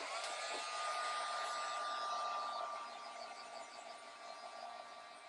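A hair dryer blows steadily on paint splatters across an art journal page, a continuous close whooshing drone with a faint whine that drops slightly in level partway through, no talking.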